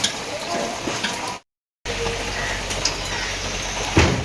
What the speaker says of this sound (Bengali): এই যে এখন প্রিয়াঙ্কা বৃষ্টির মধ্যে ভিজে ভিজে এখন বাসন মাজছে